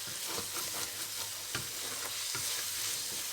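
Baingan bharta fries in ghee with cumin, a steady close hiss of sizzling broken by soft scrapes of stirring.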